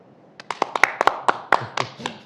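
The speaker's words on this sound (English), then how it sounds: "Clap if you're for Amendment A" An audience at a talk on a state income-tax and education ballot amendment claps for a couple of seconds. The separate, uneven hand claps from a small group sound close and lively.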